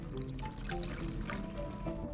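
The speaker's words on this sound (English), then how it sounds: "I'll pour it into a plastic bottle." Walnut sap pours into a plastic bottle, a quiet gurgling trickle of liquid filling the container, soft and steady and close with no talking.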